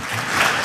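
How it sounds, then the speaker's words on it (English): Brief burst of dense audience clapping at an Adwa anniversary celebration event, loud and continuous for under a second. "I appreciate that clap."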